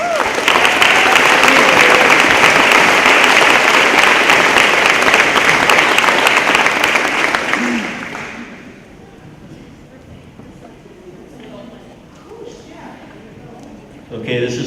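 Loud, dense applause from an audience at a Relay For Life event in Hudson in 2013, clapping for two honorees, sustained for about eight seconds before fading into quieter room noise and scattered voices.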